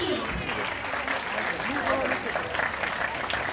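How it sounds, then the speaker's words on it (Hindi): Continuous applause from an audience at a school annual day prize announcement, a dense steady clatter of clapping hands with voices mixed in throughout. "तालियां मत रोकिए प्लीज"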